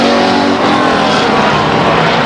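Loud engine roar from race cars lapping the Stockton 99 Speedway oval, a sustained close drone with a slight pitch sweep as cars pass, no talking.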